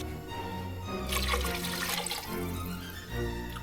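Water poured into a pot for a Transylvanian vegetarian soup with potatoes and tarragon, a splashing gush that swells and eases in uneven pulses over a low background tone.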